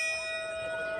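Bell rung by a stair climber at a 9/11 memorial, a single clear metallic strike with a long, sustained ringing tone that stays steady through the short clip.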